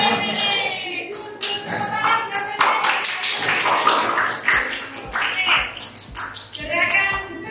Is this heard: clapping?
yes